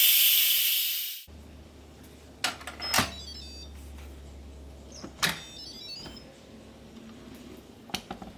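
A loud rush of hissing steam bursts out of an Instant Pot pressure cooker on manual release, then cuts off abruptly, followed by scattered clicks and light clatter in a quiet room.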